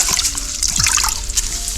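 Water sloshing and trickling as a car polishing pad is soaked and hydrated before use, a steady wet splashing close by with no talk.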